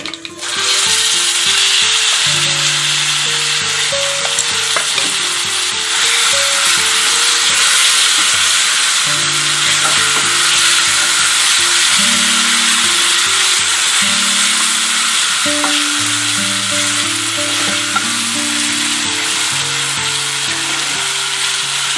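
Wood apple (velakkaya) chutney hits a pan of hot tempering on medium heat and fries with a steady, even sizzle, while a melodic background tune plays throughout.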